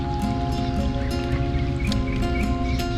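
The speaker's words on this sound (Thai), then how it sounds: "พอออกจากใต้สะพานมา ปุ๊บฝนตกตามหลังเลยอะ่ะ" Steady rain falling on a canal during a kayak fishing trip, a dense continuous patter and hiss close by, with faint bird calls and no speech.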